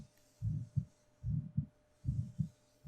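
Slow, soft heartbeat in a binaural ASMR recording, a steady lub-dub pattern repeating three times, close and muffled with a low thump, no voice.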